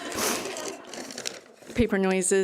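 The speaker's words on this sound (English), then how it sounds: "So I make some paper noises." Paper notes crinkle and rustle at an awards ceremony for about a second and a half. A person then starts speaking close to the microphone.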